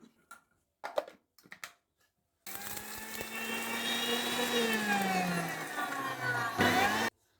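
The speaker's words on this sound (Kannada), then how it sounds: "ಅರ್ಧ ಚಮಚ ಮೆಣಸು, 1 ಚಮಚ ಜೀರಿಗೆ, ಇಷ್ಟಕ್ಕೆ ಸ್ವಲ್ಪ ಅರಿಶಿನ ಹಾಕ್ಕೊಂಡು ಎಲ್ಲವನ್ನೂ ತರಿಯಾಗಿ ರುಬ್ಕೋಬೇಕು." An electric mixer grinder coarsely grinding pepper, cumin and turmeric, a loud steady whir that runs for several seconds and then cuts off, preceded by a few short clatters.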